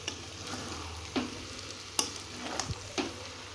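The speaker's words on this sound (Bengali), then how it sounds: "মাংসটা কষানো হয়ে গেছে কিন্তু ধৈর্য ধরে কষাতে হবে, ভালোভাবে কষাতে হবে।" Chicken and potatoes in a curry are stirred and sautéed in a pan, with steady frying sizzle throughout and several sharp scraping strokes of the spoon at intervals.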